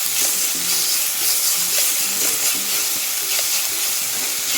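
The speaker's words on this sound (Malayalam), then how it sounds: "ഇച്ചിരി ഉപ്പൂടെ നമുക്ക് ചേർത്തിട്ട് നന്നായിട്ട് വഴറ്റിയെടുക്കാം." Green chilies with a pinch of salt sauté in a pan for a fish curry, giving a steady loud sizzle with repeated scraping stirs of a spatula throughout, no voices.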